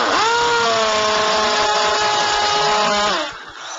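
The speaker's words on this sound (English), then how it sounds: "You drill down into the concrete." A hammer drill bores vertically down into a concrete floor while a Behr Claws carpet stretcher is being anchored, giving a loud, steady whining drone with rising and falling harmonic tones for about three seconds before it cuts off.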